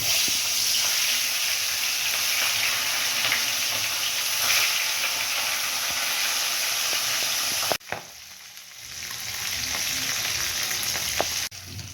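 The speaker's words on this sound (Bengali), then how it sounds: "তেল গরম হয়ে গেছে, মাছের মাথাগুলো ভেজে নেব।" Catla fish heads frying in hot oil, a loud, dense close sizzle that suddenly drops to a quieter crackle, then builds back up.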